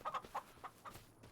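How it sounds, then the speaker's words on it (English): Chickens in the Farming Simulator 25 video game cluck in short, soft bursts, several quick calls spaced unevenly, faint and fairly close with no talk over them. "We have little chickies."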